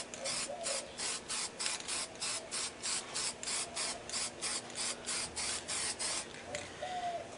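Aerosol spray paint hissing in repeated short bursts over a butterfly stencil, laying a light blue tint; roughly a dozen evenly spaced, close, steady sprays in a regular rhythm, with no talking.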